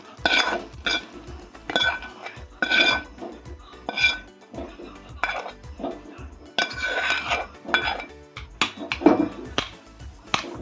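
Roasted tomato, onion and garlic cloves dropped into a mixer jar in a home kitchen: a series of close, uneven clinks and soft thuds against the jar, arriving in irregular bursts with no voice.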